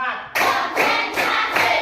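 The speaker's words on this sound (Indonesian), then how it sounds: "Tepuk 1, tepuk 2, tepuk 3, tepuk 4" A class of children claps in unison to a spoken count, a few loud, evenly spaced bursts of hands striking together, close and crisp.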